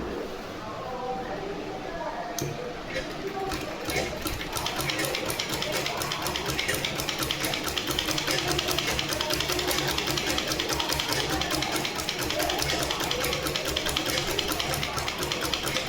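A sewing machine stitches fabric in a steady, fast mechanical whirr with a regular needle beat. It starts quietly and then runs continuously at a moderate level.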